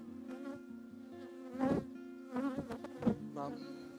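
Honey bees buzz during installation of a new package into an apiary hive, a close, wavering drone with louder swells as insects pass near, alone without talk.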